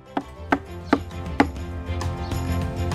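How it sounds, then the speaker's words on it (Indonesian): A knife cuts fresh mushrooms into small pieces on a board in a village kitchen, giving four crisp, close chops in an uneven rhythm over a low background hum. "Potong mereka menjadi potong-potongan kecil."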